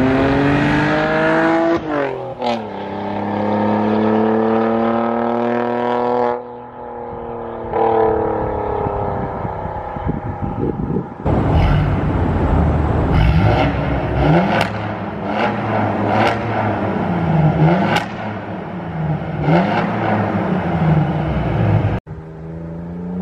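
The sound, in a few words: Saab 9-3 Turbo X V6 revving with catless downpipe, muffler delete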